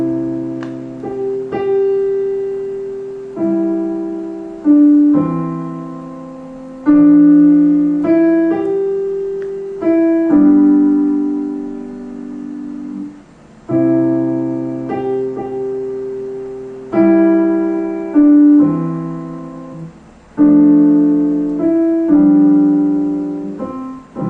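A slow, gentle adagio piano piece at about 66 to 76 BPM with long sustained notes and soft chords, each phrase ringing out and fading before the next is struck.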